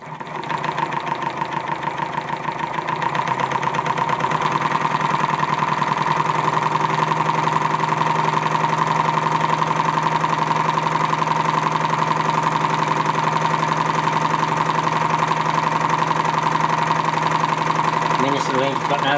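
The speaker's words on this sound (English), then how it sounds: "What I call is a coil piston magnetic engine" Homemade radial four-piston magnetic engine with coils as pistons, stepping up from idle into a steady, close buzzing whine with a constant hum underneath, rising slightly after the first few seconds and running on evenly.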